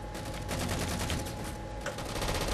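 Rapid automatic gunfire in the video game Halo, a dense, continuous loud burst of shots with no pauses and no talking.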